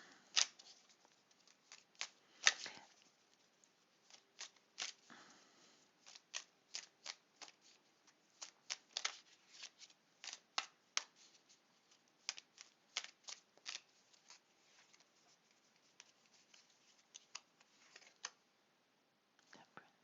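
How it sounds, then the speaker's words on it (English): Tarot cards being shuffled by hand, crisp riffling and snapping bursts in an irregular rhythm, close and fairly quiet, with brief pauses between shuffles. "I think I'm just going to put another tarot there. Just going to shuffle a bit."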